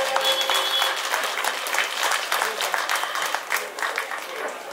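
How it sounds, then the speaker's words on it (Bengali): Audience applause at a Nabami cultural programme: a sustained, dense round of clapping from a crowd, steady and fairly loud throughout with no speech over it. "সবার জন্য আরেকবার জোরে হাততালি হয়ে যায়।"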